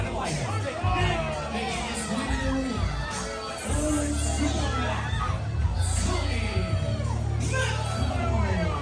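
Rowdy fans yell and cheer at a wrestling entrance during a match, a dense, steady roar of crowd shouting and whoops with babbling voices throughout.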